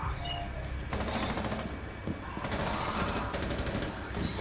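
Rainbow Six Siege firefight: rapid bursts of automatic gunfire crackle repeatedly throughout, fairly close, with a faint voice in the background.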